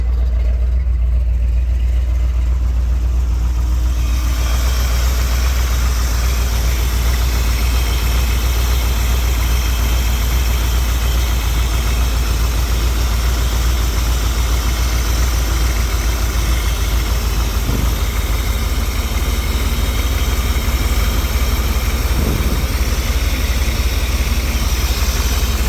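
A 388 stroker V8 idling in a solid axle swapped S10 Blazer, a loud, steady low rumble running without a break throughout and heard close up.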